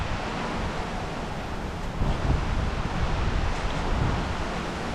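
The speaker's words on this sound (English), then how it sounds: "Big gust of wind behind me." Strong wind gusts roar outdoors during garden plant propagation, a dense continuous rush buffeting the microphone, swelling louder after two seconds.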